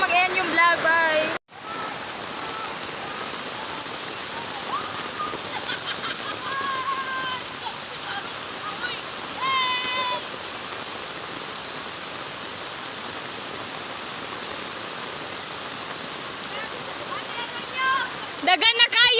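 Rain falling in a steady, even hiss after an abrupt start, with faint voices and bird-like chirps now and then, and a burst of nearby sounds at the end.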